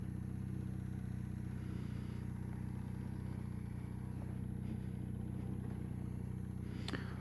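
A 1982 Honda CM450E motorcycle idles in a mild Colorado setting, its engine a steady, quiet low hum with faint clatter and a brief sharp click near the end.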